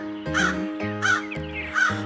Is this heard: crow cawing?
yes